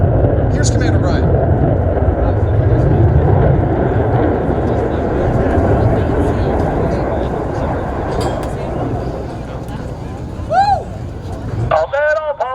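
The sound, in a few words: Blue Angels jet aircraft performing Diamond aileron roll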